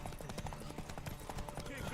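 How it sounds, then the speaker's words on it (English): Rapid galloping horse hooves from The Witcher 3 Game of the Year edition, a steady clip-clop rhythm close and fairly loud, mixed with game ambience and a voice talking over it. "I feel like the horses aren't sprinting the way that they're supposed to"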